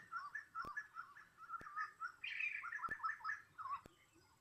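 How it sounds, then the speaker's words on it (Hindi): Birds chirp at night in a tiger-zone forest in a fast, continuous stream of bright notes, fairly faint and outdoors, with a few brief ticks mixed in. "आसपास में पक्षी एकदम से चहकने लगते हैं"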